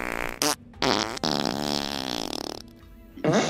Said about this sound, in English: I'm gonna use a fart machine to lead them away with the sounds of their people